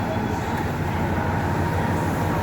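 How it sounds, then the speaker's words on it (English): A train on a multi-day Sydney rail trip rumbles steadily and continuously, a broad low drone of wheels and carriage noise at moderate loudness with no distinct onsets. "Another train just materialised."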